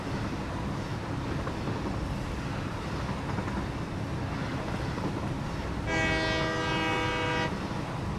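A train in the video game Satisfactory rumbles steadily along its tracks as a constant, loud roar, and its horn sounds once near the end in a single, sustained blast.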